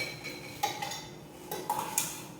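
A spoon scrapes and clinks against a pot while mango pickle curry is stirred, a few sharp metallic taps over a quiet rustle, close and alone.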